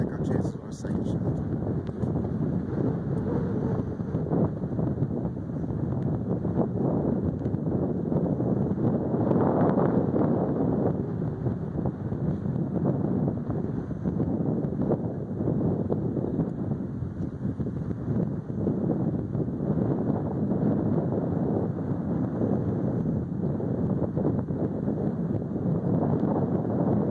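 Steady broadband wind rushes across the microphone on a snowy golf course, a constant roar with gusts swelling and easing for the whole stretch and no clear speech over it.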